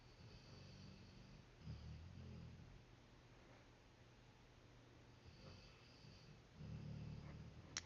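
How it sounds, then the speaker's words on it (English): A dog snoring softly nearby, slow low rumbling breaths in a quiet room, a few louder snorts near the start and end. "I do apologize if you hear my dog snoring in the background."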